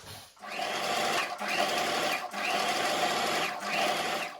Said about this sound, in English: then you take it to your sewing machine and stitch from here down to here